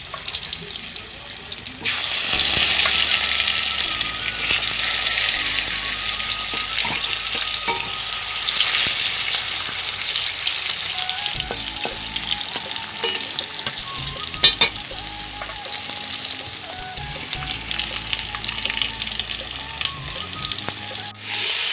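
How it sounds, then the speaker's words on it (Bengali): Pumpkin pieces fry in hot oil in a wok, a continuous close sizzle with occasional stirring scrapes and clatters, and a voice speaks faintly now and then. "এখন কড়াইতে তেলও গরম হয়ে গেছে আমি কুমড়ো ভাজাগুলি কুমড়োগুলো ভাজার জন্য দিয়ে দেবো"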